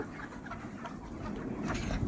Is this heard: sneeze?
no